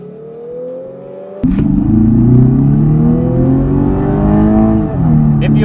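A Lexus RC 300 AWD engine idles, then abruptly jumps into a loud, sustained rev that climbs and dips briefly before holding steady, close and throaty.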